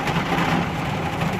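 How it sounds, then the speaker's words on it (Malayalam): Heavy downpour drums on a vehicle, a dense steady roar of rain with a low rumble underneath, loud and continuous, with no voices. "ഒരു രക്ഷയില്ലാത്ത മഴയാണ്"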